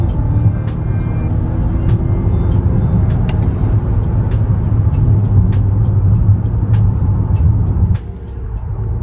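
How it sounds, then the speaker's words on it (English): A 2024 Volvo XC90 SUV with a 295-horsepower engine accelerates, a steady mid-low engine hum heard from inside the cabin with scattered clicks, easing off near the end. "If I step on the gas,"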